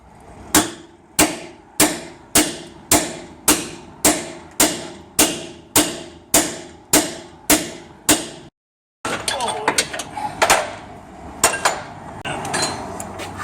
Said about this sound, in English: And now we can just drive it out once it starts moving with our driver.